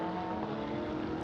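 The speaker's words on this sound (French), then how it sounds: "on retrouve Nigel Bailly, ici on l'aperçoit, cette Bentley numéro 107 du team CMR" GT race cars including a Bentley and a Porsche 992 at Hockenheimring, a loud sustained engine drone with steady tonal whine, close and continuous, no speech.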